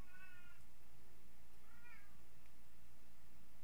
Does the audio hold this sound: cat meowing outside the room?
yes